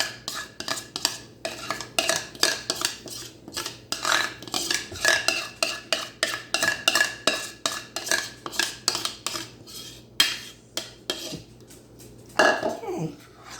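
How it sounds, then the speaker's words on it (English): A spoon clinks and scrapes rhythmically against a bowl while a cream cheese and condensed milk mixture is stirred into pudding, close and steady throughout, with a faint voice near the end. "we're just going to stir to combine and get that mixed in and incorporated good"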